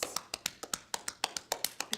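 Cupping tapotement in a Swedish back massage, cupped hands striking a back in quick, even hollow pats, about a dozen close, light strikes with no talking.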